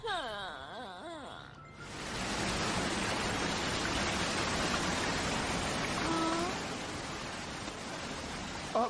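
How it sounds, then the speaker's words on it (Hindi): Cartoon waterfall roars as a steady, dense wash of falling water, loud and continuous after a brief opening where a voice and whooshing effect play before the water swells in. "अब तुम्हें इस झरने के अंदर जाना है"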